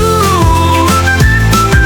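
A train whistle toots in a children's nursery rhyme song, sounding as loud sustained tones that repeat in a steady rhythm over continuous music.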